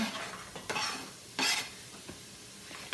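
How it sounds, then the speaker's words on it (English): Chopped onions and ground hamburger with venison sizzle and are stirred together in one large pot, a steady close frying hiss broken by a few scraping spoon strokes, with no talking. "we're going to saute the onions with a hamburger, and we're going to brown the hamburger with it"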